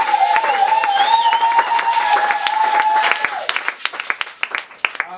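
A church congregation at a French-language service claps loudly together, a dense burst of applause with a sustained whistle or cheer over it, thinning into scattered claps near the end.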